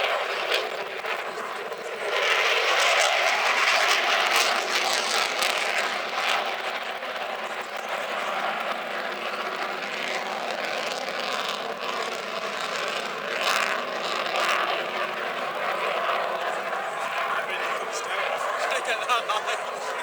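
Display aircraft at the Sunderland International Airshow 2015 flying a tight spiral, a steady broad engine drone that swells early and holds on for the whole stretch, with a commentator talking over it from a public address system.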